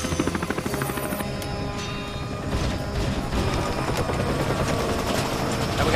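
Helicopter with a failing rotor in a movie action scene, a loud continuous rotor and engine roar with rhythmic chopping and mechanical rattling, crashing clatter near the start.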